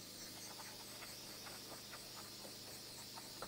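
A skin cleaning machine sprays water with a steady hiss, continuous and fairly close, with faint intermittent ticks over a low background hum.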